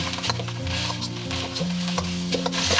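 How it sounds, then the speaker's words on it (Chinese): Rice stir-fried in a wok with eggs, lard and curry cubes over high heat, a steady sizzle with scraping and tossing sounds from a spatula, close and continuous, with music playing underneath. "我们就把这个生米饭放上去，加入25克的咖喱块，然后翻拌均匀"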